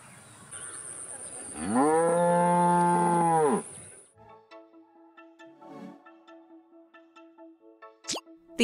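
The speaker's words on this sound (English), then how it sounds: "The answer is B, cow." A cow gives one long, loud, steady moo of about two seconds. It stands alone against a quiet background, and a few soft, faint sounds follow it.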